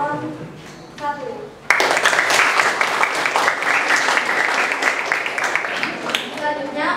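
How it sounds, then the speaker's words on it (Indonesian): At a student council (OSIS) election practice at SMK Negeri 2 Pekalongan, a voice speaks briefly. Then the audience bursts into loud, sustained clapping that carries on for several seconds. "berikan tepuk tangan untuk calon"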